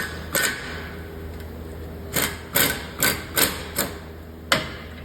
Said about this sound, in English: See, it just pops the rotor right off.